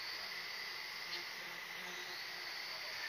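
A bee buzzes faintly and steadily in a tropical rainforest, blended with a constant high insect drone like crickets, and no talking.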